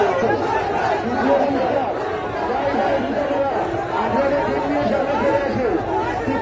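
A crowd of people chattering and cheering together at a boat race on the Surma River in Sylhet, steady and loud throughout, with many overlapping voices and no clear pauses.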